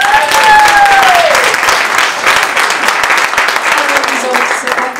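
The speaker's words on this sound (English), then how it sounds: "That round of applause was for you guys, for making it here tonight" An audience breaks into loud, sustained applause, dense clapping filling the room for several seconds as a crowd cheers, with a brief whistle rising over the clapping early on.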